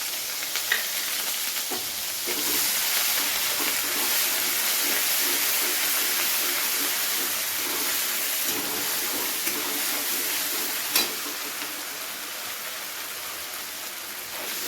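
Chili paste and ginger paste hit a hot pan and crackle in a steady, loud, close sizzle, with faint scraping as they are stirred.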